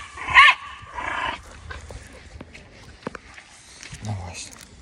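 A dog growls and gives a short bark close by on a walk, with another dog nearby, as footsteps and people talking continue around it.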